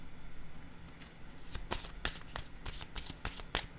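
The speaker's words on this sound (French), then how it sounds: "Je vais déposer une autre carte sur habitude" Tarot cards are shuffled and laid on a table in a quick series of soft, crisp slaps and flicks, close and fairly quiet.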